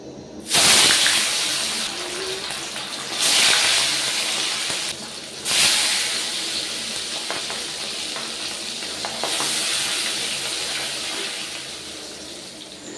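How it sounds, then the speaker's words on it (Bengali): Turmeric-coated fish frying in a pan while Bengali fish curry is cooked, giving a steady loud hiss and sizzle with several swelling bursts as pieces are turned or added. "মাছের এবারে হলুদ মাখিয়ে মাছগুলো ভেজে নিতে হবে"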